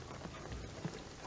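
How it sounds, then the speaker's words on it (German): Steady rain falls in the video game Shadow of the Tomb Raider, a faint, even patter of drops with no voices over it during this short moment. "Ich sage, der Regen wird alles überfluten."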